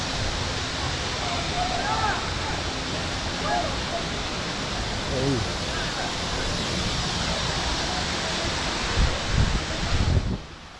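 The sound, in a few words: waterfall, flowing water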